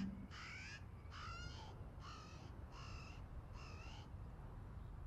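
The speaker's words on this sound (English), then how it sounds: "That was a bird. I've never heard that in my life in this game before." A crow in a driving video game gives five evenly spaced harsh caws, faint and distant over a low steady engine and road rumble.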